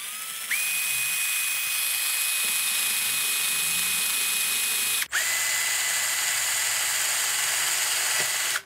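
A small electric drill whines steadily at close range, boring through the plastic of a VW Golf interior dome light, stopping briefly midway and then starting up again with the same high-pitched hum.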